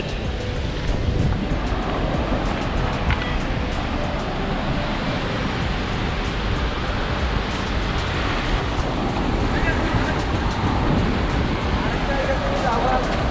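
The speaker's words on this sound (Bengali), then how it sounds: "হঠাৎ করে তো বড় বড় ঢেউ আসে" Big waves crash and roll in on the beach at Cox's Bazar, a continuous broad roar of surf close by, with wind buffeting the microphone throughout.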